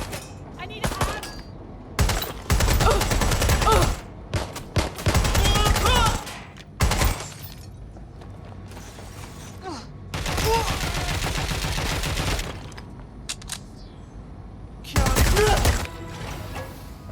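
Automatic gunfire in the Watch Dogs Legion video game, with repeated bursts of rapid shots separated by short lulls and voices calling out over and between the volleys.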